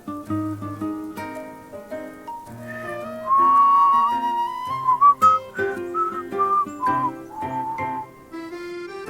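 A man whistles a lively, meandering tune close by, the clear notes rising and falling in quick phrases with brief pauses and no talking.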